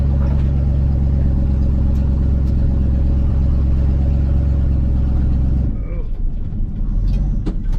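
A 1968 Ford F100 Ranger pickup, long abandoned, drives along with a steady low engine rumble and road noise that hold loud and close, then ease near the end; someone speaks over it.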